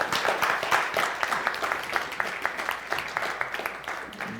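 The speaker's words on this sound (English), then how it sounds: "let's give a round of applause for our debaters" An audience claps for the debaters at a church missions conference debate, a moderate, steady patter of hand claps that thins slightly toward the end.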